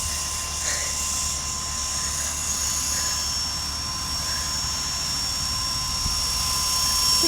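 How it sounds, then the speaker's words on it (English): A toy helicopter flying outdoors makes a steady, whining rotor drone. It holds at the same level throughout, with a brief knock near the end. "It's a good helicopter"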